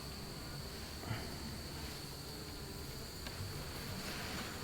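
Honey bees hum around a light, unpropolized frame lifted from a horizontal hive during an April inspection, a low steady drone with a faint high whine, continuous and fairly quiet throughout.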